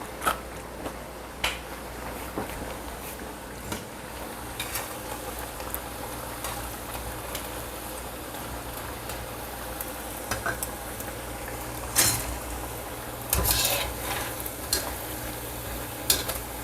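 White cauliflower fries in hot oil in a pan, a soft steady sizzle broken by occasional sharper crackles and spatters, with a few scraping stirs.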